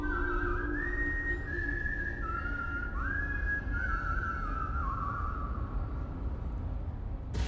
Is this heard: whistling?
yes